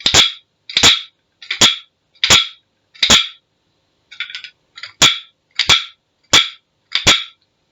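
Ten sharp, dry clacks in a fairly steady rhythm, close and crisp, with a brief softer rattle partway through and no voices.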